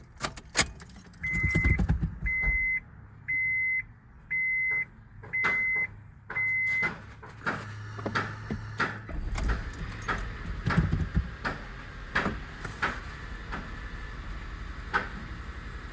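A first-generation Honda Insight after PCV and EGR plate cleaning: keys jingle, a series of dashboard chimes sounds, then the starter cranks briefly and the engine catches into a steady, quiet idle with light clicks.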